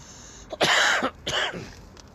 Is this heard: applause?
no